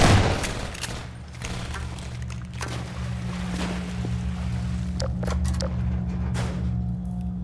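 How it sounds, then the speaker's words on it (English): Half-Life 2 shotgun in the video game, firing several loud, punchy blasts at irregular intervals over a low rumbling game backdrop. "I love the half-life shotgun"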